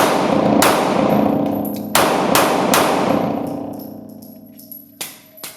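Shots from a Glock 19 pistol, with a few loud, sharp reports spaced about a second apart, each ringing out with a metallic tail. A couple of quieter clanks follow near the end.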